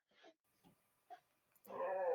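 Indoors, a pet dog gives a few short, soft whimpers, then breaks into a louder, sustained whine that carries on to the end.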